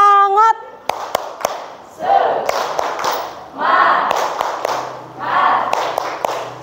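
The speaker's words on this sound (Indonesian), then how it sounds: "Tepuk semangat." An audience performs a rhythmic spirit clap, tepuk semangat, at a teachers' dissemination session: sharp patterned claps alternate with loud group chanting in several bursts, after a short spoken cue.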